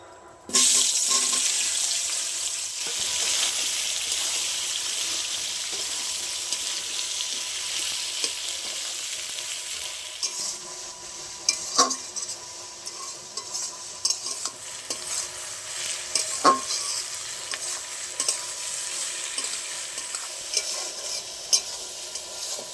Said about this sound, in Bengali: এবার আমি কেটে রাখা পেঁয়াজ দিয়ে দেবো